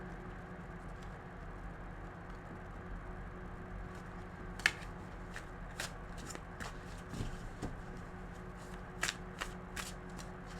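Tarot cards being shuffled close by in a quiet room, a soft papery riffle punctuated by sharp flicking snaps and taps of cards at irregular intervals.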